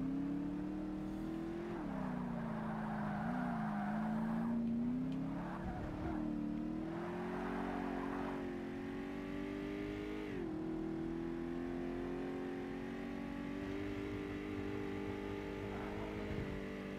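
Shelby Cobra race car in Forza Motorsport, its engine droning steadily at close range with pitch rising and falling through gear changes and corners, plus a few brief tire squeals.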